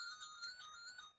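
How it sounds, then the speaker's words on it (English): A mobile phone ringtone goes off in a lecture hall during a medical conference on paediatric infection. It is a steady, bright electronic ring with sustained tones, fairly faint, with no talking over it. "Apologies, that's my phone going off."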